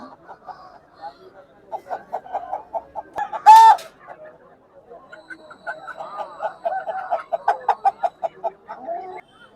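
A rooster crows once loudly and close at a country chicken market, with chickens clucking steadily before and after while people talk and haggle nearby.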